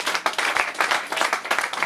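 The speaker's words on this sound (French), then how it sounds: "Donnons des acclamations au Seigneur." A church congregation claps in bursts and cheers to praise the Lord during a French-language worship service, the rhythmic applause close and steady with a brief rise and fall.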